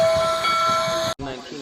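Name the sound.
steam locomotive moving backward on the track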